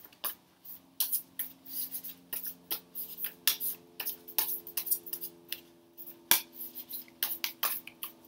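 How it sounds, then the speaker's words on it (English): Tarot cards pulled from a deck and laid down: a steady run of crisp, close card snaps and slides, about a dozen sharp flicks in an irregular rhythm against a quiet room hum. "Let me pull a few more cards for you"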